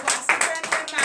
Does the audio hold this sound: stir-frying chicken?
no